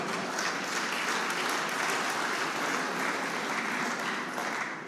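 Sustained applause from a seated audience at a university's 50th anniversary ceremony, dense steady clapping filling the hall for about five seconds without pause.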